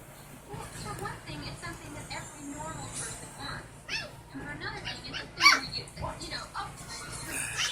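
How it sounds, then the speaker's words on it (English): A dog barks and yips intermittently under ongoing talk, with one sharper, louder bark standing out midway. "So, Bear, are you barking at the kitties?"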